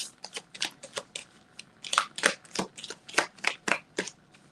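Cards riffled and bridged repeatedly in quick crackling bursts, close and fairly loud, with no talking.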